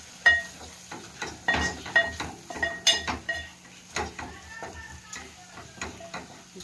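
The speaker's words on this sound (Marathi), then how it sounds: "अर्धा चमचा गरम मसाला परतून घेऊया आपण" Garam masala is sautéed in a pan for a Bombay duck and potato curry, with faint sizzling under a string of sharp clinks and scrapes as a spoon stirs against the metal pan.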